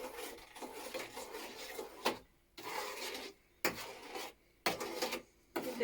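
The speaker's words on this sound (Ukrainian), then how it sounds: "Шкребти гарненько, щоб не залишилося. Так, також перемішуємо." Batter for Easter bread (paska) scraped and stirred in a bowl, heard as close, rasping scrapes and rubbing strokes in bursts, broken by short pauses.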